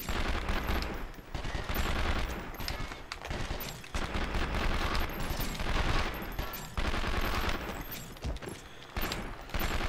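Sustained video game gunfire from the PlayStation 2 title 24: The Game, dense bursts of automatic fire and overlapping shots rattling almost continuously with brief lulls, loud and close throughout.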